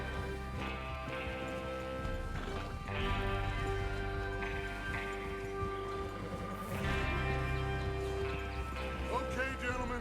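Horses trot with a steady clip-clop rhythm in the video game Red Dead Redemption 2, beneath a swelling orchestral music score, hooves continuous throughout at moderate loudness.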